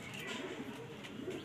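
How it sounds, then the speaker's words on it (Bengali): Home-loft kotashi pigeons, a male and a female, coo in a soft, steady, low murmur that runs through the whole short stretch at close range. "এটা পায়রাটা হচ্ছে কটাসি পায়রা"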